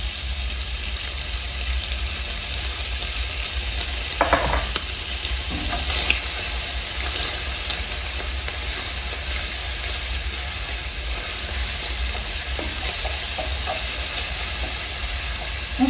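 Lardons fry in a pan, a loud steady sizzle and crackle that runs throughout, with a few clinks and stirring knocks, and no talk.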